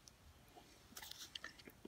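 Close, faint chewing and biting of cooked chicken, a few soft wet crunchy bites clustered toward the end, with no talk.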